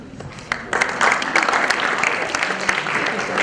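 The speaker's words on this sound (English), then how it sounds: "can we please have a proper round of applause for Mr. Kotak?" An audience at a school event applauds Mr. Kotak, a dense and steady clapping that swells after the first half second and keeps going, filling the hall from near and far.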